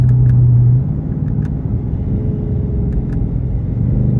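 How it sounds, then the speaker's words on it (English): Car engine rumbling as it accelerates, with intake noise in a steady low drone heard from inside the cabin, loud and continuous. "Y'all can hear that intake a little bit right there."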